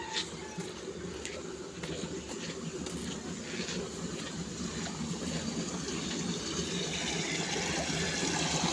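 A strong current of flowing water rushes steadily outdoors, a constant broad wash that grows slightly louder, with faint voices in the background.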